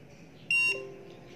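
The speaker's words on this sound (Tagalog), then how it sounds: "nagkaroon siya ng blue light banda dito tapos nag-produce ng beep sound" A plug-and-play RFID reader gives one short, clear electronic beep of about a quarter second when a tag is tapped, alone over a quiet room hum.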